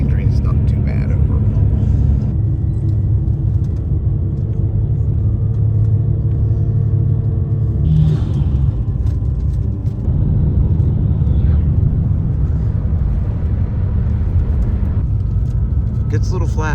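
Deep, constant engine rumble inside a bus on a ten-hour ride through Patagonia, droning steadily throughout while people talk over it.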